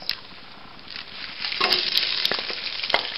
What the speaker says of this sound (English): you need to heat about a tablespoon of olive oil over a medium heat, and you add the prawn shells